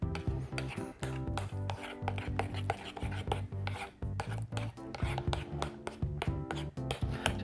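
Butter tart filling with a teaspoon of vanilla is beaten in a bowl, a fast rhythmic scraping and tapping of the utensil against the bowl, quiet and close, while a voice talks over the mixing.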